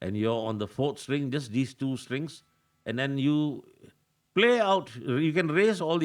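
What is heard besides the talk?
No everyday noise stands out behind the speech.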